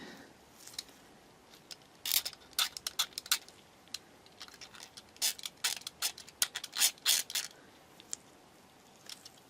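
Irregular bursts of close, dry scraping of paint on a 1/12 scale Tamiya model, some quick and clustered, others isolated, over a quiet background.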